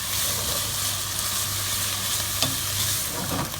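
Bolognese ragù with tomato puree stirred in a pan, a steady close sizzle and hiss with soft scraping strokes and one sharp knock of the spoon against the pan.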